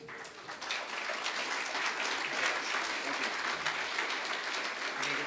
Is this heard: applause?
yes